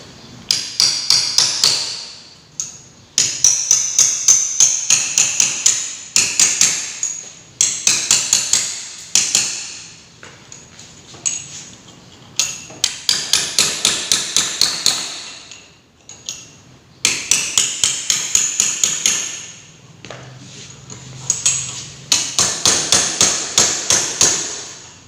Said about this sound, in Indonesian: Kemudian kita lepas lonterot dengan cara membuka pengunci dari lonterot dengan cara bahat dan palu.